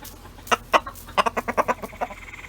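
Backyard chickens on a hot day clucking in a quick series of short, close, fairly loud bursts, a run of rhythmic clucks coming one after another with no talk over them.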